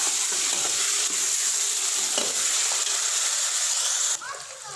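Onion and tomato masala frying in a pan for a homemade desi chicken shorba, a steady close sizzle with stirring scrapes throughout that drops quieter near the end.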